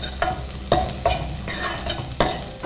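Ingredients for sambar sautéing in a pan until browned, a close, steady sizzle broken by four or five regular scrapes of a spoon or spatula against the pan.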